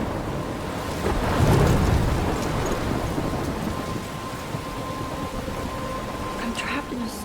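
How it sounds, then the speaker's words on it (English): Thunder rumbles through steady heavy rain in the Life is Strange video game, a deep swelling roll near the start over constant rainfall, with a faint voice briefly present. "I'm trapped in a storm?"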